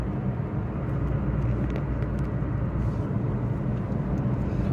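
Hyundai Santro hatchback cruising on a highway at about 70 km/h, a steady broadband drone of engine, tyre and wind noise heard from inside the cabin, continuous and fairly loud with no talk.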